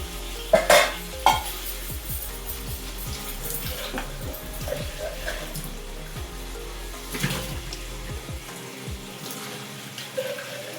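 Paneer pieces frying in a pan, a soft crackle and sizzle running throughout with a few sharp clinks and scrapes of a utensil, close and moderately quiet, no one talking.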